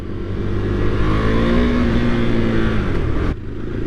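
A 2023 KTM 390 Duke single-cylinder motorcycle engine under throttle around a corner, a loud rising buzzing drone that drops off abruptly near the end.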